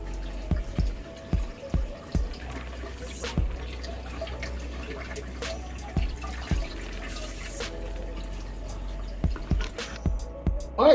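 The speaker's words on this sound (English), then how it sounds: "let me go ahead and fill this tank all the way up" Water splashes and drips into a betta aquarium tank as it is filled, with scattered plinks and small splashes, some in quick clusters, over a low steady hum.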